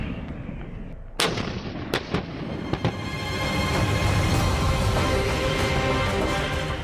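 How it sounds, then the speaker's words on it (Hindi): Indian army artillery guns fire on the Mahajan field firing range in Rajasthan, a sharp loud blast near 1.2 seconds followed by further booms around 2 and 2.8 seconds, then a rolling, sustained rumble that echoes across open ground. "राजस्थान का महाजन फील्ड फायरिंग रेंज इन गोलाबारी की आवाजों से गूंज रहा"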